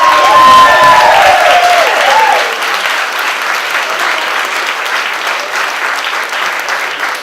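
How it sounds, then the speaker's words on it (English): Gala audience giving a loud round of applause with some cheering, a brief whistle-like tone over the opening clapping, then steady clapping that eases slightly. "So please give him a round of applause."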